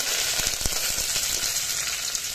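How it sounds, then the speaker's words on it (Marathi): Mustard seeds, cumin, garlic cloves and curry leaves crackle and sizzle steadily in hot oil, a dense close frying hiss with small pops throughout and no talking. "आता बघा, आपली मोहरी तडतडली, त्यामध्ये थोडंसं जिरं घालूया"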